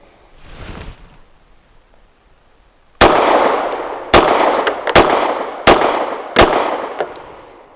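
Five sharp, loud pistol shots ring out at a range from a Springfield Armory Prodigy double-stack 1911 with a long steel dust cover. They come at a measured pace less than a second apart, after a few seconds of soft rustling.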